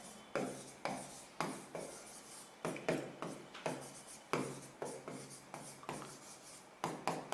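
Marker or chalk scratches across a board during a chemistry lecture, heard as a steady series of close, rhythmic strokes, about two per second, with no talking.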